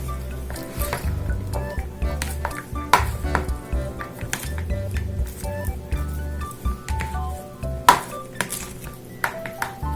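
Beef salpicón ingredients being stirred together with tomato in a bowl: soft wet squishes and light clinks of a utensil against the dish, with irregular taps and scrapes at close range.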